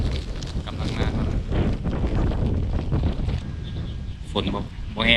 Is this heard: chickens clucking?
no